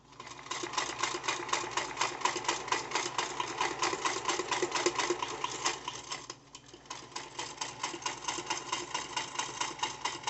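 A vintage 1955 Singer Featherweight sewing machine motor runs steadily, giving a close, rapid mechanical ticking whirr that stops briefly midway, then resumes at the same even pace.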